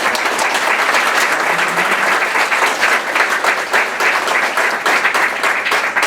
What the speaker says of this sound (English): So for today, let's give Becky Kagan Schott on this round of applause.